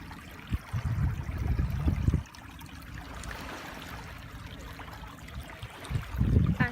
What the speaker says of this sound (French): Il y a un petit ruisseau, genre là. Il y a de l'eau qui coule en tabarouette.